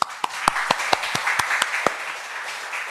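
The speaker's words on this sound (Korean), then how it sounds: "그 하나님께 박수 한번." A church congregation applauds during a Sunday worship service, with distinct individual hand claps arriving in a loose, fairly steady rhythm for about two seconds before thinning out into a quieter room.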